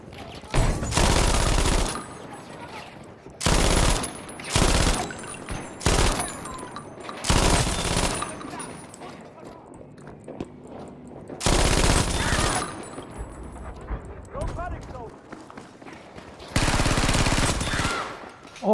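Gunfire in the video game Battlefield V comes in several loud, sustained bursts of rapid automatic fire separated by quieter stretches of game ambience.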